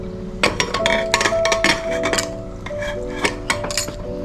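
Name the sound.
lid being placed on a pressure cooker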